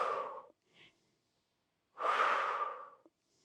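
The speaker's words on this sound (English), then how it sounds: "Exhale." Two strong breaths out during a resistance band workout, one short puff followed by a longer, louder exhale lasting about a second, close to the microphone with quiet between them.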